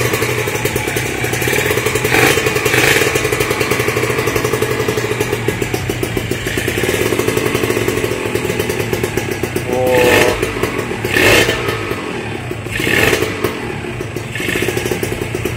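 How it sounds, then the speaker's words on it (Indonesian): A ported and polished Kawasaki Ninja RR two-stroke engine runs close by with a raspy idle, breaking into several sharp revs that rise and fall over a steady rattling clatter. "Sekarang siap engine on."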